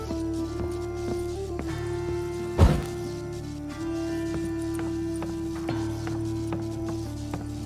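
Horse hooves clip-clop in a rhythmic gallop in The Witcher 3 video game, moderately loud under a sustained tonal game soundtrack, with a sharp thud partway through.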